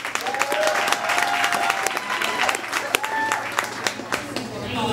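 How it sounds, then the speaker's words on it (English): Audience applause at a spoken-word love poetry performance, a thick continuous wash of many hands clapping with scattered sharper claps, a few faint whistles or cheers riding on top, filling the whole stretch. "Personified, start clapping right now."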